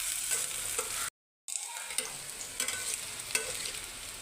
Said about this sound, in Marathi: जरा तांबूस रंगावर कांदा भाजायचा बघा.